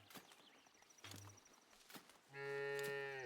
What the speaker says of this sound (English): here we can see we've got our cows now.